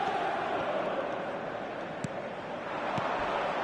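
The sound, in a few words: crowd applause in a football video game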